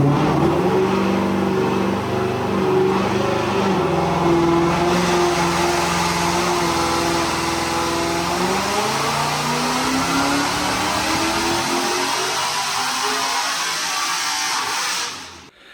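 Roush Mustang V8 roaring loud and close at an early-morning cold start, a steady high-revving drone with slight rises and dips in pitch that fades out abruptly at the end, no voices.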